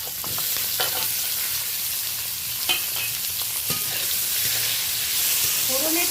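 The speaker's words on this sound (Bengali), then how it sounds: "এই সময় আমি কেটে রাখা পেঁয়াজ আর টমেটোটা দিয়ে দিলাম" Chopped onion and tomato hit a hot pan with mustard tempering and green chillies, giving a steady close sizzle of frying with scraping stirs through it, alone without talk.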